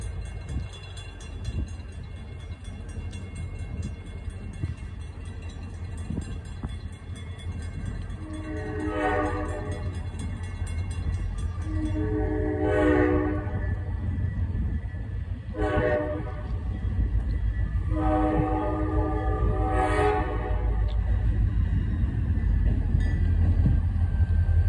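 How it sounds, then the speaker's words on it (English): A train rumbles past a level crossing nearby with a low, building roar, and its horn sounds four times in long harmonic blasts partway through. "Ella, the choo-choo train's about to come."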